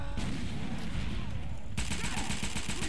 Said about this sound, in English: Oh my god, I love this grenade launcher.